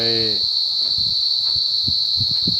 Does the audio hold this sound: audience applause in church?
no